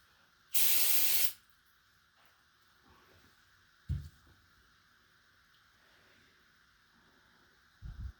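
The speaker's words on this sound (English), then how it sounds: "give it one more blast of carb cleaner" Can of carb cleaner giving a single loud, close spray blast of about a second onto an outboard fuel pump part from a 1972 Sea King 35 HP, followed by quiet handling clunks.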